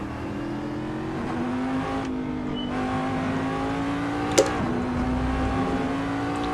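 A roughly 550-horsepower, 2,200-pound USCC race car in a racing game holds a loud steady engine drone, its pitch rising gradually as it accelerates, with a brief dip around a gear change.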